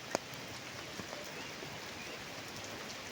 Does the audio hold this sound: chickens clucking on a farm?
no